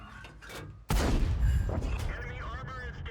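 A tank cannon fires in the World of Tanks video game, one sudden loud boom followed by a rumbling decay, with a voice talking briefly over it.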